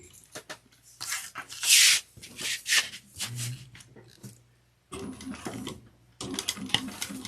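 A sewing machine top stitches a bag in short, close bursts of rapid mechanical stitching, separated by brief pauses and handling noises.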